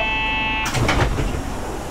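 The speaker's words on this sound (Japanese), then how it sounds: "ドアが閉まります。" Automatic train doors closing at a Japanese station bound for Shin-Urayasu on a typhoon night, a steady electronic chime cutting off into a brief mechanical sliding rumble and thud, fairly loud and close.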